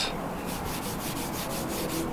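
A clay bar is rubbed back and forth across the gloss vinyl wrap on a car roof, making a steady, rhythmic, close-up scrubbing hiss of repeated strokes with no voices.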